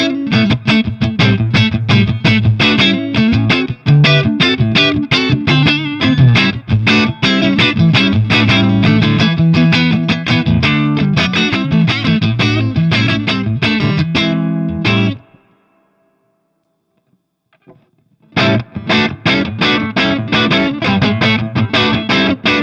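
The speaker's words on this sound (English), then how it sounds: "engaging the drive mode to add some clip and a little edge to the channel 1 tones" Electric guitar played through a MESA/Boogie Triple Crown TC-50 amp in channel 1 drive mode, a loud, continuous stream of picked, lightly clipped notes and chords with edgy overdrive, a brief silent pause, then the riffing resumes.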